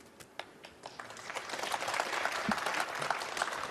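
Audience applause at a snooker match between Ding Junhui and Judd Trump at the International Championship builds and holds at a moderate level, a mass of scattered claps from a crowd with no voices on top.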